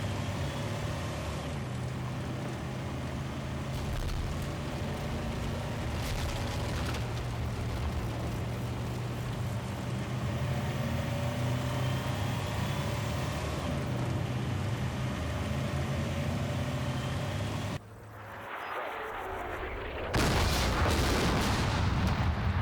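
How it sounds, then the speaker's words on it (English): Russian artillery rounds landing in Combat Mission: Black Sea, with deep rolling booms and rumbling impacts over a continuous low battlefield drone, then a brief lull before another loud burst. "The next few Russian artillery rounds land on empty field."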